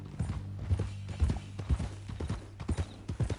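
Horse hooves clip-clopping at an unhurried walking pace in the video game Red Dead Redemption 2, steady close thuds with faint ambient sound and no talking over them.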